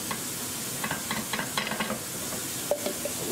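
Smothered pork chops are stirred in a hot pot, giving soft scraping spoon strokes over a steady sizzle and steam hiss, close up with no talk.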